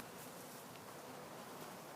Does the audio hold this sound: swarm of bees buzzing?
yes